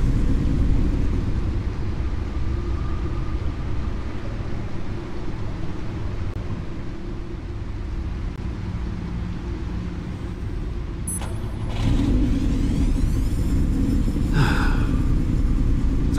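A sports car idles in the Batman game, its engine giving a steady, loud low rumble that swells slightly near the end, with a brief higher whine.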